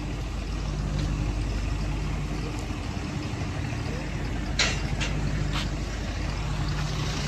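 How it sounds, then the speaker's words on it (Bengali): A passenger ship crowded with people pulls away across open water, giving a steady low engine rumble and broad wash of water noise that carries on evenly throughout. "আর এখান দিয়ে এখন একটা জাহাজ ছেড়ে যাচ্ছে, মানুষ ভর্তি"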